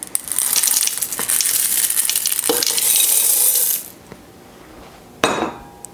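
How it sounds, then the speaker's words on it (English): A NutriMill stand mixer with a dough hook stirs M&Ms into peanut butter cookie dough made with fresh milled flour, producing busy rattling and crunching clatter that stops after about four seconds, followed by one sharp knock. "I'm just going to stir these in the mixer until the M&Ms are distributed throughout our cookie batter"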